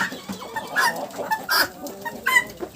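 Several chickens, including roosters, cluck and squawk nearby in short, irregular bursts, with no talking.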